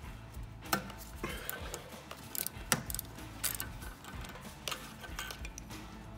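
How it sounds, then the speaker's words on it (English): Ratchet clicks and metallic taps from removing the passenger side O2 sensor on a Dodge Charger exhaust manifold, several sharp irregular ticks close by over a low garage hum. "And now we're removing the passenger side O2 sensor."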